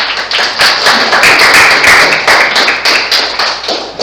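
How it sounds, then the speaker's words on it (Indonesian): A classroom group gives a short burst of applause, many hands clapping together loudly and densely for a few seconds with no speech. "Aplaus untuk kita semua."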